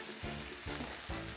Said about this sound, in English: what I have sauteing here is the purple onions, green sweet peppers, tomatoes, callaloo and carrots